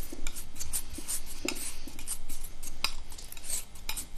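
Porcelain paint pigment powder is mixed and ground with a binder on a hard surface, giving close, steady scraping and clinking strokes in an irregular rhythm with no talk.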